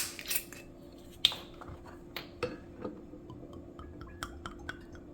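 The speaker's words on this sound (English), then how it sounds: "And then I'm going to mix this up well." A spoon mixes Irish cream into a chocolate cheesecake mixture in a bowl, giving a series of light, irregular clinks and scrapes against the dish, close and fairly quiet, with no voices.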